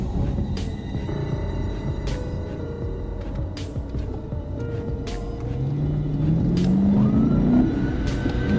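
A silver Honda Civic speeds off on a highway during a police chase, its steady road rumble giving way to a loud engine whose pitch climbs as it accelerates hard over the last few seconds, with no talking.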